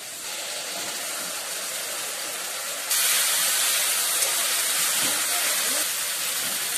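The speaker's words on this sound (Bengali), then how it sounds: "মশলা ভালোভাবে কষাতে থাকবো।" Continuous sizzling hiss of spice paste frying in a pan, growing noticeably louder partway through and holding steady.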